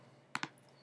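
A computer keyboard gives two quick, crisp clicks close together, then goes quiet against a faint background hum.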